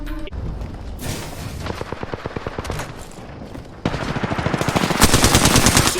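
In a competitive battle royale shooter, close, loud automatic gunfire goes off in rapid bursts, then a denser, heavier volley of shots builds toward the end with no talking.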